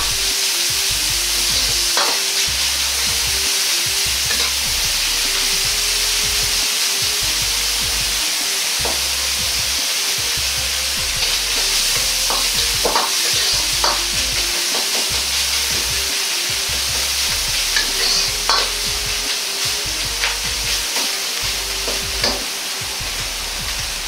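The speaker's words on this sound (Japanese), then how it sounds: "火でしっかりと火が通るまで炒めていきます。" Ground meat sizzles and hisses in a pan as it is stir-fried thoroughly, a loud, steady frying noise up close with repeated scraping strokes of a utensil across the pan.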